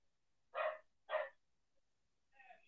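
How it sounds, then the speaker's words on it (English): Two sharp dog barks come in quick succession at a distance, followed after a pause by a fainter, higher bark or yip; otherwise quiet. "Sorry if you guys can hear my dogs in the background."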